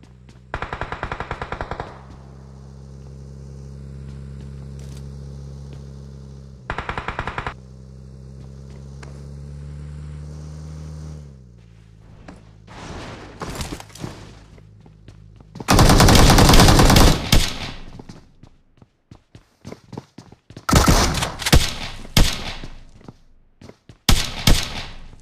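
Bursts of automatic gunfire in the battle royale game BGMI: a long sustained burst, then scattered shots and several loud rapid volleys close by, over a steady vehicle engine hum early on.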